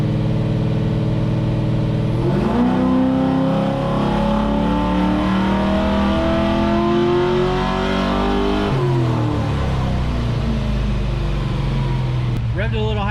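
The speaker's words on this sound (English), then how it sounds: "Revved a little higher than I usually would on a first pull" Engine of an LS-swapped Chevrolet Impala being tuned, revving hard and loud throughout, with the pitch climbing, then dropping off and climbing again during a pull.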